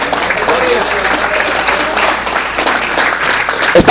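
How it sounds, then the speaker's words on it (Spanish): Church congregation applauding in praise of God during a Spanish-language sermon, a dense, steady wash of clapping lasting several seconds with a voice speaking over it. "Yo, si fuera usted, estuviera aplaudiendo a papá Dios."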